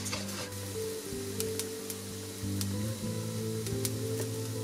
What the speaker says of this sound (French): On fait toaster la graine comme ça pendant environ 1 minute et on remue bien pour qu'elle ne colle pas